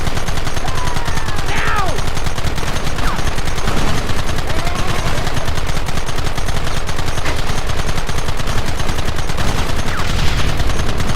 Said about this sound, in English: There they are! Open fire! Keep it coming, fellas!